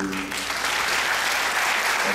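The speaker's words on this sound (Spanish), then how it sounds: "Lo recibimos con un fuerte aplauso" An audience at a summer cancer-therapy lecture applauds steadily, a dense, even wash of clapping from many hands heard close and fairly loud throughout, with a brief voice at the start.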